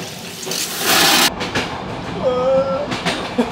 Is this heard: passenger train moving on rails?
yes